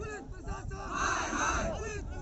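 Crowd of rioters shouting during a police riot-control drill demonstration by the 39th Battalion PAC in Mirzapur, overlapping agitated voices in loud bursts of yelling.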